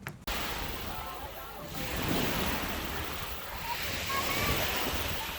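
Gentle ocean waves wash onto a smooth Florida beach, a continuous soft surf hiss with a faint swell midway, steady and close, with no voices.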